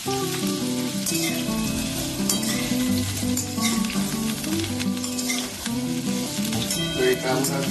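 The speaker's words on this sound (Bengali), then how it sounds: "তো এটা আমরা ততক্ষণ একটু ভেজে নেব, যতক্ষণ এটা একটু গোল্ডেন ব্রাউন কালার এসে যায় ফুলকপিটা।" Cauliflower fries in hot oil with a loud, continuous sizzle and frequent crackles under a steady bed of background music, with no voices.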